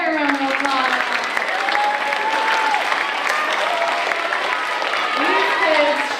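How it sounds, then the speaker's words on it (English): At a school concert, the audience applauds the children's choir with a steady wash of clapping and some cheering voices rising and falling over it. "Can I have a big choir round of applause?"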